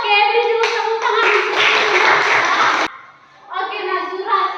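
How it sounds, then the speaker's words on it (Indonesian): A classroom of students claps for a classmate's answer in a dense burst of clapping lasting a couple of seconds, with children's voices talking before and after. "Oke, beri dulu tepuk tangan."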